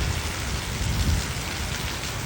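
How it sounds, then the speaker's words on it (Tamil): Heavy daytime rain pours down steadily in Raya Vellore, a dense hiss of drops on surfaces with a low thunder rumble swelling beneath it. "பட்டம் பகலில் இடியுடன் கூடிய நல்ல மழை காற்று."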